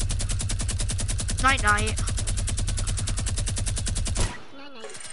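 A legendary minigun in a video game fires a steady, rapid, buzzing stream of shots that runs loud and continuous before cutting off abruptly, with a voice speaking briefly over it and again after it stops.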